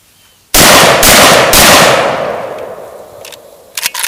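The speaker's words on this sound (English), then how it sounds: "but you're bump firing it, there's nothing to reduce the cycle rate" An AKS-74u rifle bump fired, a loud, close burst of several rapid shots that rings out and decays over a few seconds, followed by a couple of faint clicks.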